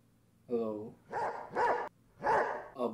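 A dog barks several times in short, yelping bursts, close to the recording, with brief pauses between barks.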